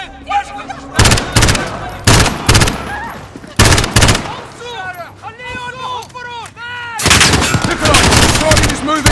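Loud, close bursts of automatic gunfire from the video game Call of Duty Modern Warfare, fired in several sharp volleys with short gaps, with ringing whistles and echoes between bursts.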